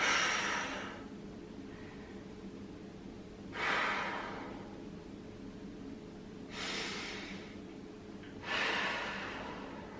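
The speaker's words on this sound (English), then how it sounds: "Big deep breaths in." A person takes slow, deep breaths during a workout cool-down after skipping and bodyweight exercises. Several long, airy inhales and exhales are heard close to the microphone at an unhurried pace, with no talking.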